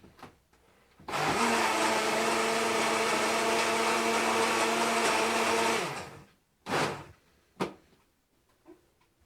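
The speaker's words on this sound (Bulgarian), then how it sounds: "правите в блендера на най-силните обороти." A blender roars at full speed for about five seconds mixing a cocktail, then winds down, followed by a couple of knocks and clatters.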